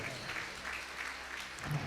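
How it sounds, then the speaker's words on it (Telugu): A church congregation claps loudly and steadily through the moment, a fairly distant wash of many hands with no clear voices. "గట్టిగా చప్పట్లు కొట్టాల"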